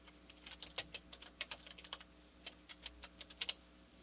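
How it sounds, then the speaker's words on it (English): Typing on a computer keyboard to enter text, with a quiet, steady run of light key clicks at an even pace, close but soft, and no talk. "I'll grab my type tool here and single click and type in some text"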